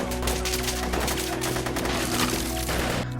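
Gunfire from child soldiers in the film Blood Diamond, a dense continuous rattle of rapid shots over a busy film soundtrack, loud and unbroken for the few seconds.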